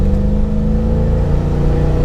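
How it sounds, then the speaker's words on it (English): A late model Jeep Wrangler JK with a cammed LS3 6.2 V8 and a fairly conservative muffler holds a loud, steady engine drone from close by, with a deep rumbling tone and no clear rise in pitch. "Today we're in a late model JK with a cammed LS"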